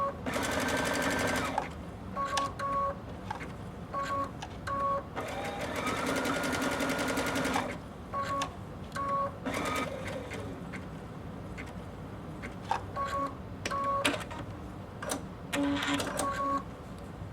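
A sewing machine stitches around an applique circle with short bursts of rapid mechanical whirring, pausing repeatedly as the needle pivots, with small beeps between runs, all close and clear.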